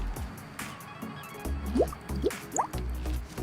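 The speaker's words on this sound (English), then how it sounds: "You can start by squirting some of this everyday dish soap into this flask" Everyday dish soap is squirted into a flask, producing close, quiet squelching squirts and a few rising liquid blips in quick succession.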